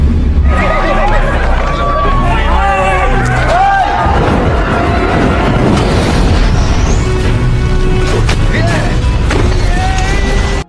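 A horse whinnies loudly with a wavering, rising and falling neigh, followed by heavy thumps, scuffling and crowd commotion in a village scene, all loud and close.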